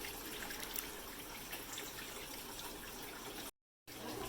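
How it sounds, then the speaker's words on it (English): Water trickles steadily down a vivarium drip wall, a soft, continuous splashing hiss heard close up with no voices, cut by a brief moment of silence near the end. "the water flow at this point is just perfect"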